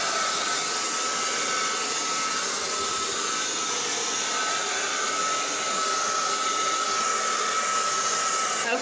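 A heat blower or heat gun is held close to plastic window insulation film to shrink it. It makes a constant loud rushing roar of air that runs unbroken through the whole stretch, with no speech.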